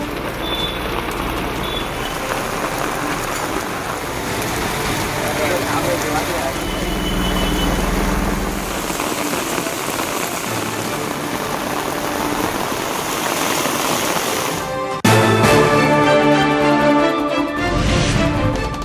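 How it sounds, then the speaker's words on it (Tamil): Heavy rain falling for a second day around Tiruchendur, with the Shiva temple premises flooded: a dense, steady hiss of downpour throughout, overlaid by a broadcast soundtrack, shifting abruptly near the end. "திருச்செந்தூர் சுற்றுவட்டார பகுதிகளில் 2வது நாளாக தொடரும் கனமழை"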